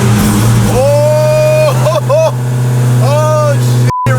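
Supercharged Dodge Challenger Hellcat with boost removed, running naturally aspirated, idles with a steady deep rumble close by, while rising and falling whistling tones pass over it and a voice talks now and then.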